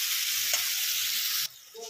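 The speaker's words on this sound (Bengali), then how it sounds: "আলুগুলো নিয়ে একটু নেড়ে নিলাম।" Potatoes sizzle steadily in a cooking pan as they are stirred, then the hissing cuts off abruptly near the end, leaving quieter low clatter.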